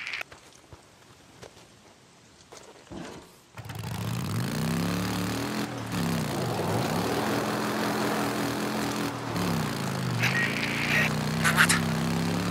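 In the Days Gone video game, a helicopter's rotor and engine roar rise abruptly after a quiet start and hold as a steady, pulsing drone for several seconds, with brief higher sounds near the end.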